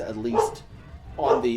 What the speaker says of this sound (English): That's a dog barking, by the way.